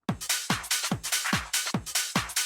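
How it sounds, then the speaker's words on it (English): A punchy speed garage drum loop with a kick on every beat and crisp hats between, playing alone at a brisk, even tempo. "I've got a bunch of speed garage loops that kind of sound like this."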